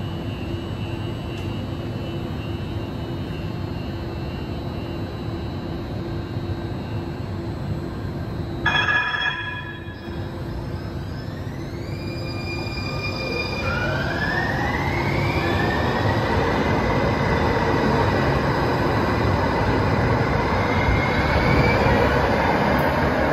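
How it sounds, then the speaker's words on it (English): A San Francisco Muni Metro light-rail train bound for Sunnydale pulls into a new T-line station, a steady rumble with rising electric motor whine and a brief high squeal or chime partway through, growing louder as it arrives. "we see a Sunnydale train serving the station"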